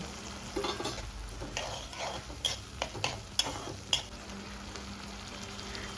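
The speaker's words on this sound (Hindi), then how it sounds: "ता अब हमन यही में डाल देबो बारीक कटे टमाटर ला। एकरे साथ में जो हमन मसाला रखे रहे ओला हमन सब ला एक संग डाल देबो" Finely chopped tomatoes and spices frying in a pan for a chana aloo curry, with a soft continuous sizzle under repeated spoon scrapes and a few sharp metallic clinks against the pan, heard up close.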